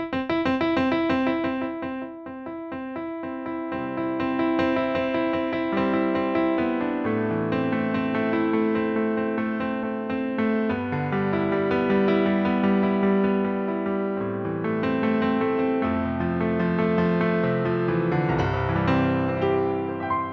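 A Donner DEP-20 digital piano recorded straight from its quarter-inch headphone output, playing a clean, close solo passage of chords and melodic runs across low and high registers, with no talking.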